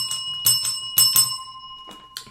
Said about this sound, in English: There's my bell.